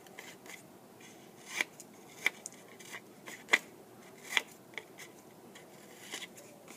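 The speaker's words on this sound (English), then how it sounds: "So if you're taking the corner off like the triangle way, just a little cut." Scissors snipping small corners off paper, a series of sharp, close, separate clicks at an uneven pace, quiet between cuts.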